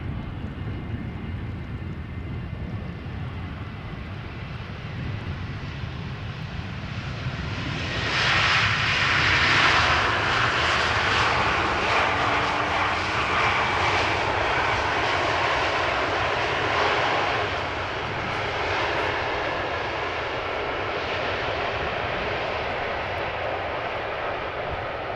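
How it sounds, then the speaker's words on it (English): An Airbus A321neo jet arrives at Amsterdam Schiphol from Istanbul, its engine noise building from a low distant rumble into a louder whining roar as it passes close overhead, then easing back to a steady drone. "It's arriving from Istanbul, A321neo"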